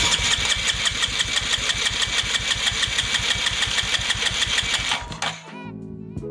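A Honda Grom engine with 20,000 miles cranks over steadily on the starter during a compression test, a fast even chugging pulse held for about five seconds before cutting off, close and loud.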